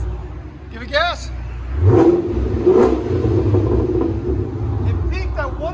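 A Chevy Camaro SS with a 6.2L V8 and Flow FX exhaust revs up, a deep rising engine roar swelling and falling back to idle nearby, while people talk over it.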